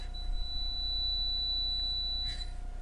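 A buzzer dipped in a solution during a homemade battery experiment rings with a thin, steady high-pitched electronic tone continuously for a few seconds, faint and unbroken, with no talking.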